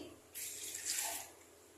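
Water from a steel tumbler splashes into a cooking pot while making vegetable biryani, a single short pour lasting about a second, fairly close and alone.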